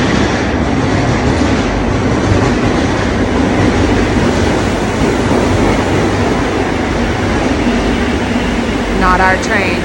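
A metro train arrives at a Madrid underground station with a loud, steady rumble and rushing noise filling the platform, a brief squeal near the end.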